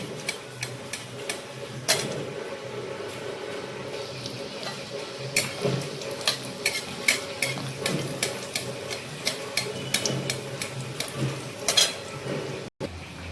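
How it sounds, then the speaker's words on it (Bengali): Potato sticks fry in a kadai with a soft continuous sizzle, broken by frequent sharp clinks and scrapes of a utensil stirring against the pan. "দেখো পটেটো স্টিকগুলো আমার পুরো ভাজা কমপ্লিট।"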